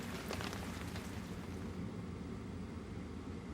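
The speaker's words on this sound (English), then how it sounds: "Hey, it's raining." Cartoon rain falling as a dense, even hiss of broadband noise, continuous and fairly loud from start to finish with no voices.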